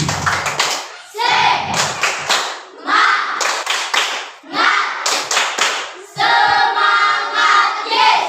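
A school audience performs the rhythmic 'tepuk semangat' clap in bursts of patterned, close-up hand claps. Gaps fall between the phrases, and children's voices chant along with the claps.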